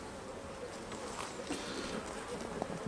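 Honey bees buzz steadily around an open hive during an inspection, a dense, continuous hum that holds an even level throughout with no break.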